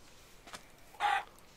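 A single brief, sharp cluck from a chicken in the video game Minecraft after a faint soft sound, otherwise quiet.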